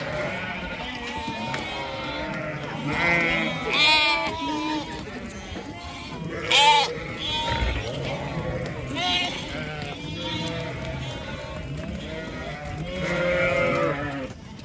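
A flock of sheep and lambs bleating over and over, high and low calls overlapping continuously at moderate distance, with a murmur of voices underneath.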